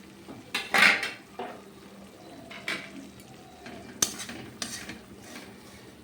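A utensil stirs semolina frying in oil in a metal cooking pot, giving scattered clinks and scrapes against the pot. Two sharper knocks stand out among quieter shuffling, and no one speaks.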